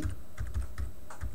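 Quick, light keystrokes tap on a computer keyboard, a handful of soft clicks in an uneven rhythm, close up and quiet.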